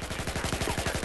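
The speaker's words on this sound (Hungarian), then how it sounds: "Na, most közben meg itt felülről tüzelnek rám" In Battlefield 4, on the Nansha Strike map, automatic gunfire rattles in a steady rapid burst of about a dozen sharp, close, loud shots with no pause and no speech.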